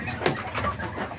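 Pigeons or doves kept in a home coop alongside quail, giving soft close cooing over a faint rustling background for about a second.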